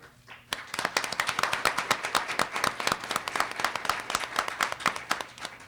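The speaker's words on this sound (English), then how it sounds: "While we're applauding" Audience applause at a Wisconsin Supreme Court justice candidate forum, a dense burst of many hands clapping that starts abruptly and holds steady, loud and close, with no talk over it.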